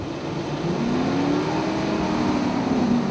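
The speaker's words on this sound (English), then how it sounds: "get the prop ventilating, back down a little bit, work through that ventilation, and then launch off" Formula 353 FasTECH performance boat at takeoff, its propellers ventilating: a steady, loud, broadband engine roar with a churning, slightly rising drone that holds throughout without speech.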